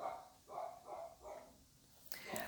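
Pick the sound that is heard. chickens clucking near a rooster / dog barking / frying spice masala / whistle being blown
dog barking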